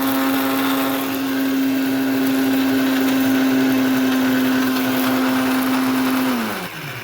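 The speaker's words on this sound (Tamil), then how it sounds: "மசாலா அரைச்சாச்சு" A mixer grinder blends a fish masala of fennel seeds, cumin and black pepper, running with a loud, steady whirring hum for several seconds before winding down at the end, with no voices.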